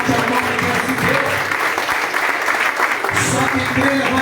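Congregation applauding throughout a Portuguese-language evangelical church sermon, steady dense clapping, loud and close, with voices mixed in under the clapping.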